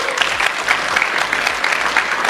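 Audience applause from a live talk crowd, dense steady clapping throughout at an even, fairly loud level with no voices over it.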